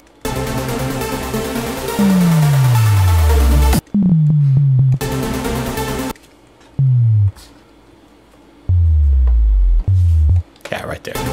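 Sub drop boom designed on the Icarus 3 synth, several loud low sweeps gliding downward into deep rumbling booms, repeated in bursts with gaps between and brief dry clicks in places.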